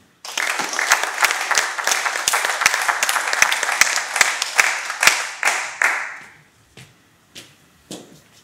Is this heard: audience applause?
yes